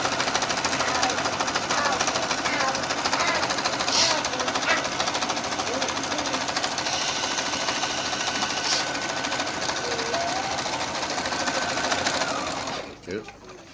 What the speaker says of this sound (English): So let's sew this.